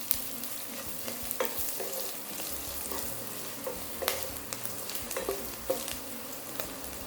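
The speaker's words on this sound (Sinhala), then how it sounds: "ලුණු ටික මේ විදිහට ටෙම්පරාදු වෙගෙන එද්දි අපි කරල් මිරිස් ටික මේකට එකතු කරගමු" Onions with broken dried chillies fry in a pan for kadala koththu, a steady close sizzle punctuated by regular scraping stirs and small clatters, with no voices.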